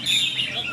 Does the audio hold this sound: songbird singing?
yes